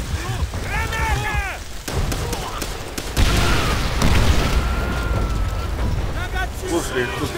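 Video game combat with a grenade blast and gunfire: loud booms and bursts of shots erupt amid continuous battle noise, while players talk and shout over it.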